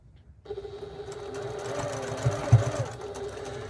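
After a brief quiet moment, a sewing machine starts up and stitches a one-centimetre seam on a 1941 gasmask bag, humming steadily close by with a couple of heavier thumps partway through.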